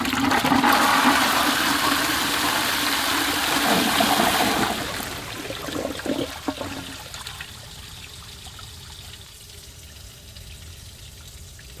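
Old bell syphon cistern toilet flushed with a quick pull through its original flush pipe, giving a loud close rush of water for about five seconds that fades into softer trickling and refilling.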